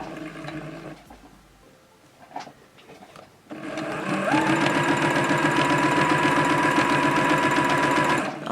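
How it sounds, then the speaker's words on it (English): A sewing machine stitches fabric slowly at a gentle pedal pace: after a few seconds of soft handling noises, a close, steady whirring hum with rapid needle ticking runs continuously to the end. "you get used to the sound of your machine, as you would with the sound of your car, you can go faster on your pedal"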